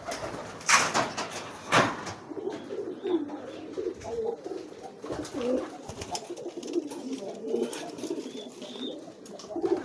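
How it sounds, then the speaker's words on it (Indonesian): Domestic pigeons coo repeatedly while courting, the soft rolling calls sitting close and steady over a faint background of other birds and occasional rustles. "lihat merpatinya giring tuh"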